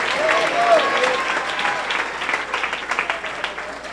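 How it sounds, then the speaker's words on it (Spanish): Congregation applauding during an evangelical church service, a steady wash of clapping held throughout with voices mixed in and swelling in bursts near the end. "Denle un aplauso fuerte a nuestro Dios en esta hora."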